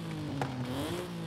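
A 2019 Nissan 370Z engine in Forza Horizon 5 revving smoothly, its tone climbing gradually and evenly, fairly quiet with a faint electronic quality.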